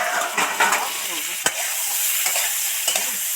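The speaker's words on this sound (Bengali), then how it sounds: "এরকম লাল লাল করে সুন্দর করে ফুলকপিটাও ভেজে নিলাম" Cauliflower fries in oil in a pan with a steady close sizzle, stirred with scraping strokes and one sharp clack of a utensil partway through; no one speaks.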